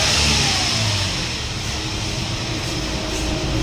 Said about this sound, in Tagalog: Rev, rev.